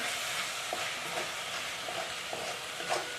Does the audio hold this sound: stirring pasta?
yes